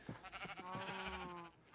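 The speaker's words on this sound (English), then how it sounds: "I got a pink sheep from breeding." A sheep in the Minecraft video game bleats once, a wavering nasal cry lasting about a second, fairly close and alone over a quiet background.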